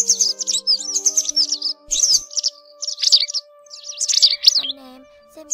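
Yellow wagtail and white wagtail calls on a bird trapping recording repeat as bright chirps and trills, loud and close. Steady electronic tones hum underneath.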